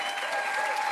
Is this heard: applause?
yes